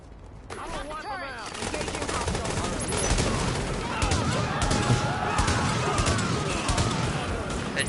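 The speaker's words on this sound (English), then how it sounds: "this is just going to be an all-out Good gunfight." Heavy video-game gunfight on PS4, with sustained automatic fire and dense bursts of shots, loud and continuous, mixed with game voices and players talking.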